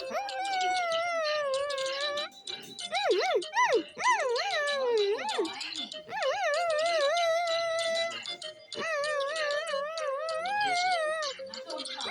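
Puppies in the video game GTA 5 whimper and yelp in a run of high, wavering whines and short cries, close and fairly loud, broken by brief pauses.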